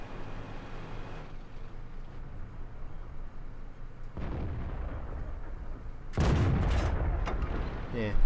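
Heavy booming tank cannon blasts from a T-43 tier 7 medium tank in World of Tanks, with a rumbling hit around four seconds and a louder, closer burst of impact noise near six seconds over constant battle background.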